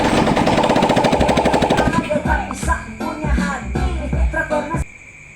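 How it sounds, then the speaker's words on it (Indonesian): A repaired Yamaha Vino motor scooter engine, recently fixed for a bad oil leak, runs with a rapid, rattling idle pulse for about two seconds, then a voice talks over the engine. "untuk motornya sudah hidup ya guys ya"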